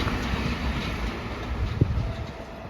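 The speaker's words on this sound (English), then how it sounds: "Here comes a train." An M7A commuter train on the Harlem line rumbles past close by as a steady, broad roar with a brief clank, accompanied by wind buffeting the microphone and no talking.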